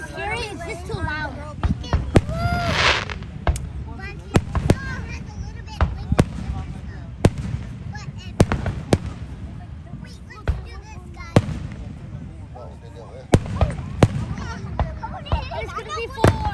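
July 4 fireworks display in Jenks, Oklahoma, with sharp booms and crackles bursting at irregular intervals, some loud and near, while children and adults talk excitedly throughout.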